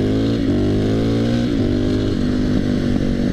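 A KTM 450 SMR motorcycle fitted with a KTM 540 RFS motor revs hard and close, its engine note rising and dipping in quick pulls as the throttle is worked.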